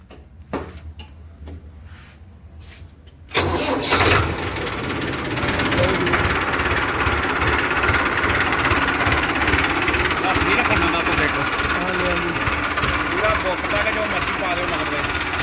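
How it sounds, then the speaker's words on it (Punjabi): A Mahindra Arjun 605 tractor engine cranks and catches after a quiet moment with brief talk, then settles into a steady, loud, rattling idle that continues throughout. "ਸਟਾਰਟ ਮਾਰਿਆ ਲੋ ਜੀ ਸਟਾਰਟਿੰਗ ਚੈੱਕ ਕਰਾ ਦਿੰਨੇ ਤੁਹਾਨੂੰ"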